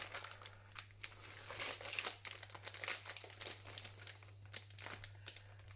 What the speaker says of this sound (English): Sorry about the cellophane.